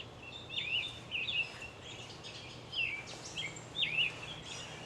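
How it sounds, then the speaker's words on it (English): Outdoor birdsong with a few clear whistled, swooping phrases repeating at intervals, moderately near, over a quiet steady hum. "Keep listening to those birds."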